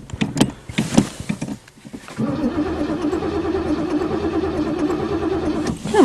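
A Chevy engine cranks on a cold start, with a few short clatters and a pause before a steady, loud whirring crank runs on alone.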